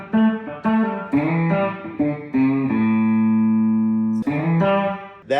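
Electric guitar playing a country lick, a run of picked repeated notes ending on a sustained held chord before picking resumes, close and clear with no talking.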